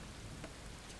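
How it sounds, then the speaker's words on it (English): Steady rain pouring in the video game Far From Noise, a dense, even broadband hiss of falling water that fills the whole moment without any break or voice. "Now the rain's pouring off the fire."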